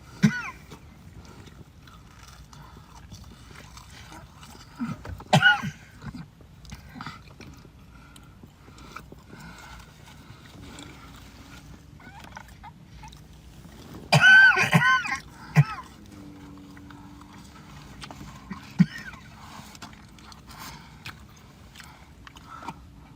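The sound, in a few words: coughing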